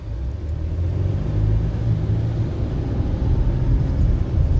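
A Dodge Journey's engine drones steadily while driving, with low rumbling road noise rising slightly as it accelerates through the gears; no voices.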